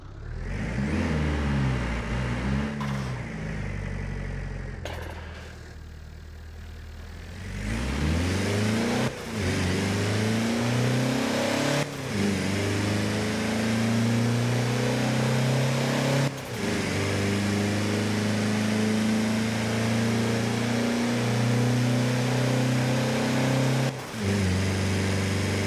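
A video game SUV engine in Forza Horizon 4 idles and then revs repeatedly, its pitch climbing and falling in smooth sweeps, loud and close, with short gaps between pulls.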